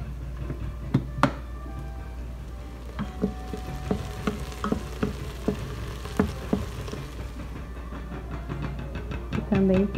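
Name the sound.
bacon and chopped scallions frying in a pan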